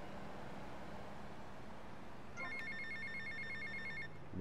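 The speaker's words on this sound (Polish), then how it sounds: "odbierzmy telefon." A telephone in GTA Vice City begins ringing halfway through, a repeated electronic trill over a low engine-like background hum, fairly quiet and with no talking.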